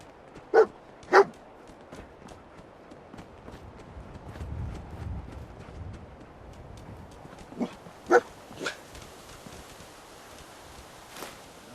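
A dog barks a few times in short sharp pairs, then again later, over a low murmur of background game ambience in Fallout 4.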